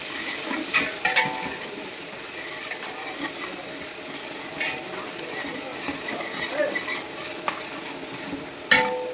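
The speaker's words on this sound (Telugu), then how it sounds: "పచ్చిమిర్చి, క్యారెట్, ఉల్లిపాయ మొత్తం వేగుతుందండి" Steady frying sizzle of green chillies, carrot and onion in oil for upma, with scattered stirring scrapes and clinks, fairly quiet and continuous throughout.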